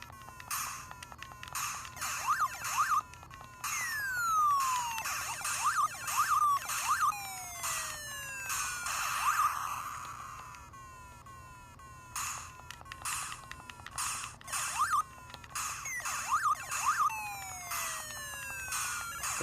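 Galaga arcade game sounds on a My Arcade handheld, with repeated laser shots, descending swooping tones and short chirping effects in quick bursts, fairly quiet and thin, with no talking.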